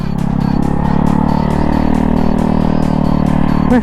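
A stand-up scooter fitted with a Yamaha Mio engine revs hard and close by, a loud steady buzzing engine drone with a slight rise in pitch, ending in a brief squeal.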